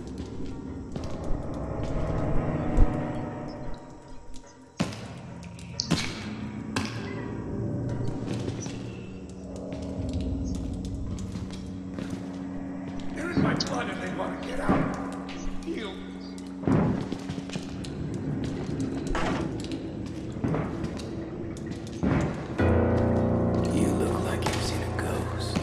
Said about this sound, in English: thumping is that guy smashing his head against the